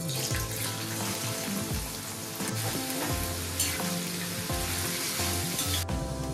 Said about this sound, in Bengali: আলু ভাজাটার জন্য তো তেল গরম হয়ে গেছে, কড়াইয়ের আলু ভাজা